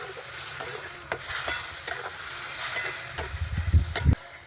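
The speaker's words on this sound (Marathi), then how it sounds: "टोमॅटोलाही चांगलं शिजेपर्यंत त्याला भाजायचं आहे" Tomato puree frying in a pan with a steady sizzle and hiss, broken by scraping stirs and a few louder clacks of the spoon toward the end.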